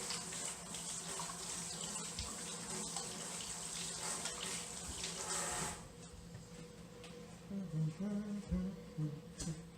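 Tap water runs steadily into a kitchen sink for hands being washed, a continuous close hiss that eases after about six seconds into softer splashing and faint clatter.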